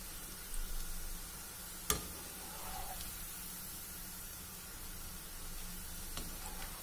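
Onion pakoda frying in hot oil, a steady soft sizzle with a sharper crackle or tap near two seconds, low and even throughout with no talking.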